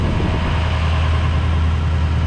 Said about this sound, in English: And you hear the truck idling up.